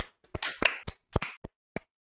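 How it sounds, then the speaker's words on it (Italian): A handful of quiet, sharp hand claps sound at uneven intervals, about eight in quick succession, close by with silence between them. "ci vuole un applauso"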